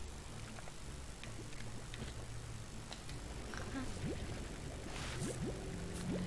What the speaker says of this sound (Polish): Mieszkam obok drogi, a akurat motor jedzie.